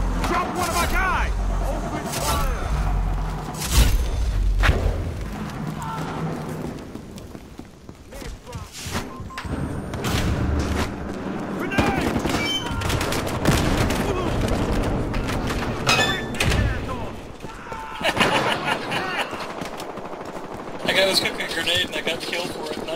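Grenade blast and bursts of gunfire in the Battlefield Hardline bank-heist mode, dense and continuous with explosive thumps, under constant excited team chatter.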